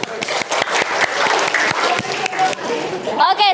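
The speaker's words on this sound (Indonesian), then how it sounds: "beri tepuk tangan untuk kita semua" Classroom of students applauding together, a dense burst of clapping with sharp hand claps and voices mixed in, fairly close and loud, ending in a brief whoop or cheer.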